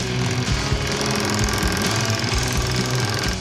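Hammering to dome a metal shield piece, a rapid, steady run of loud, close metallic blows with a buzzing, machine-like rhythm and no talking.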